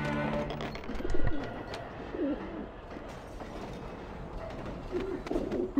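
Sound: pigeons cooing in the Alice: Madness Returns video game

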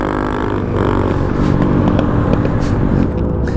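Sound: dirt bike (Honda CRF) stopping

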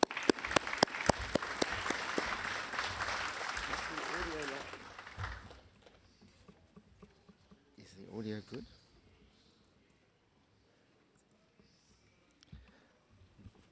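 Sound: applause

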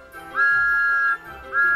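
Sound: Thomas the Tank Engine blowing his whistle

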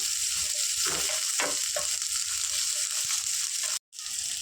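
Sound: vegetables frying and stirred with ginger garlic paste

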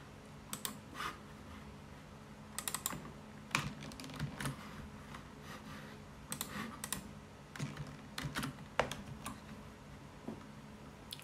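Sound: typing login password on computer keyboard

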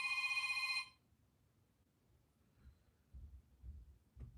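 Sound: telephone ringing for incoming call

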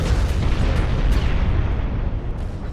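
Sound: torpedo hits exploding on ships, from video game Ultimate Admiral: Dreadnoughts

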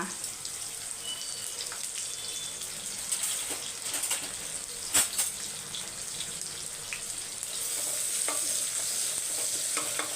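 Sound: sliced onions and garlic sautéing in a pan

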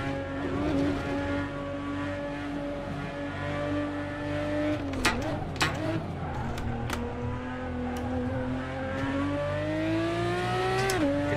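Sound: Porsche GT4 race car engine in Assetto Corsa video game

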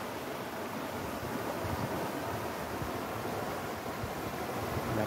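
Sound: swollen winter stream rushing with water

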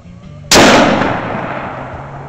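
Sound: gunshots

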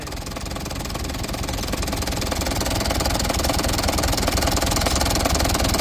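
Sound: old engine revived and running

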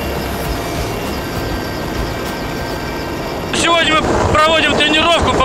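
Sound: rescue helicopter during emergency ministry drill

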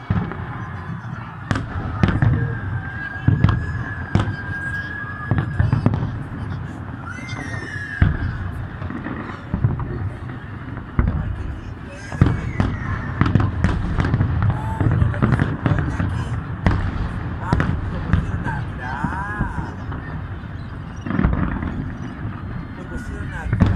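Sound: fireworks exploding at New Year in Viña del Mar

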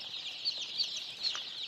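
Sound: day-old layer chicken chicks

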